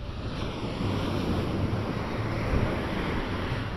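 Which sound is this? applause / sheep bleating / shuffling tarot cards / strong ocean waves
strong ocean waves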